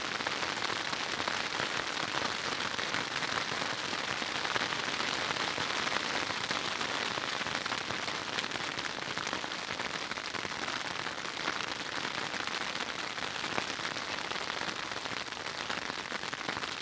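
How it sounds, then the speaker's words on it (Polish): Rain mixed with hail drums on a tarp shelter during a cold, wet night camped in a forest on a dune, a loud, dense, unbroken patter close overhead with no voices. "Dobrze, że jestem odpowiednio zabezpieczony tutaj z tym tarpem, bo byłaby lipa"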